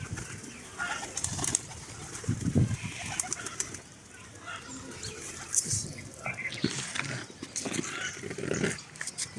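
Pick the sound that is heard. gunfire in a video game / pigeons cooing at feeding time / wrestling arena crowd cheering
pigeons cooing at feeding time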